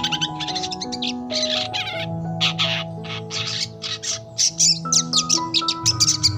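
Long-tailed shrike, or cendet, sings a busy, varied song of rapid chirps, squawks and mimicked phrases, loud and close, with steady tonal music playing underneath throughout.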